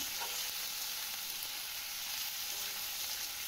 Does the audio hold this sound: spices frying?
yes